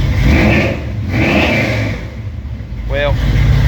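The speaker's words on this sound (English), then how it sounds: "I'll give it a little bit of a rev here." A Dodge D150 street truck swapped to a Magnum engine revs loudly up close, its engine roar rising and falling with a brief stuttering hesitation; someone speaks briefly near the end.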